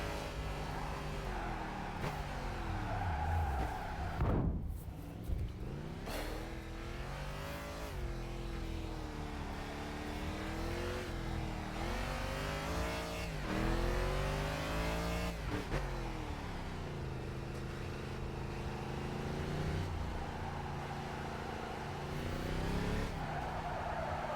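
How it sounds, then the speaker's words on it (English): Car engine revving hard through the gears on a test drive lap, loud and close, rising and falling with repeated upshifts and a brief tire squeal, with no one talking over it. "The sound of that engine."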